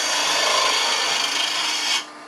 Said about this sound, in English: You use the spindle gouge to come in here, bracing it here, come right there.